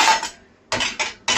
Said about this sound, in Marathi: ही जेवणाची ताटं अशा प्रकारे ठेवायची.